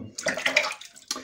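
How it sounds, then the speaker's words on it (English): Water splashing at a basin as a face is rinsed after a first shaving pass with a Wilkinson Sword Classic safety razor, two short bursts of close wet splashing separated by a brief pause. "Wash up my face."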